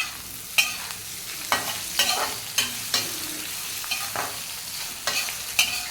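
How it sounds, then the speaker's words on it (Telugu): Curry ingredients, including sammakayalu, stirred and mixed in a frying pan, with a spoon scraping in a steady rhythm of distinct strokes over a soft ongoing sizzle, close and moderately loud, no talking. "ఇవన్నీ కూడా బాగా కలుపుకుందాము."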